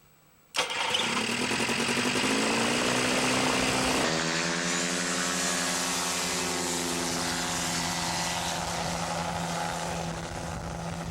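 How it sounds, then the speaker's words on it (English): A small ultralight aircraft engine starts abruptly and settles into a steady, loud droning hum with a propeller buzz, running continuously and fairly close with no talk. "Ultralights have become very popular."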